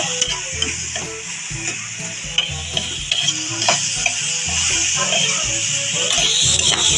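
String beans stir-fried in a pan, with steady frying sizzle and repeated scraping and clanking as they are stirred, a close and continuous kitchen sound.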